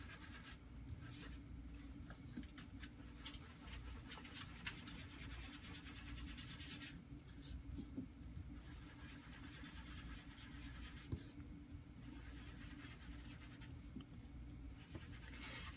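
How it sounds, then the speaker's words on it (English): Soft rubbing and dabbing of a sponge applying ink to the flower petals of a stamped Mother's Day card, a steady quiet scratchy texture with brief pauses, close and alone. "I really enjoy doing this type of sponging."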